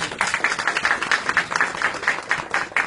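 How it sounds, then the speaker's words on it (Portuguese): Crowd applause at a municipal ceremony in Salvador, Brazil, with steady, moderately loud clapping from a gathered audience, fairly dense and continuous for a few seconds. "Vamos aplaudir."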